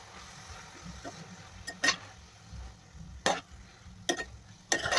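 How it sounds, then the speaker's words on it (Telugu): Tomatoes tipped into fenugreek leaves frying in a tempering, with quiet sizzling and several short bursts of stirring and scraping scattered through the clip, close by and with no talk. "ఇప్పుడు ఇందులోకి టమాటాలు వేసుకుంటున్నాను."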